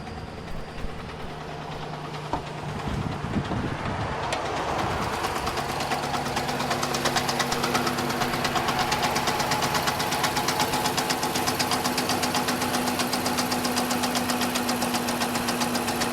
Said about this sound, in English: Something's clanking. It's got a little clank to it.